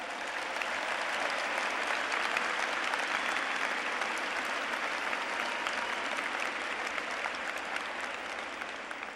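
Sustained applause from a large commencement audience at a university winter graduation ceremony, dense steady clapping filling the hall for the whole stretch, tapering slightly at the end.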